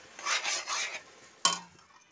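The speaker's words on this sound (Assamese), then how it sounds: "যিহেতু আঠা, বৰা চাউলৰ আঠা বহুত, লৰাবলৈও ইমান ভাল নহয়।" Sticky bora rice is stirred in a pan with a few soft, scraping strokes, then a single sharp metallic clink of the utensil against the pan rings out and fades. The sound is close and fairly quiet.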